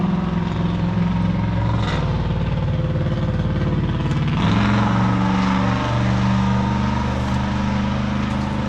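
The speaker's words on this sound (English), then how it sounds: "this old truck's loud" An old truck engine runs continuously and loud up close, a dense rumbling drone that shifts pitch partway through as the revs change, with no voices over it.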